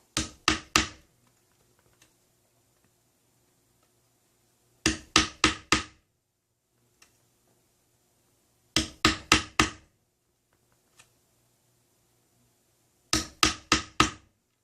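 Four groups of rapid knocks from a rubber hammer on glued loudspeaker parts during a Paradigm Mini Monitor v.2 tweeter replacement, three or four blows each, loud and close, with quiet pauses between groups.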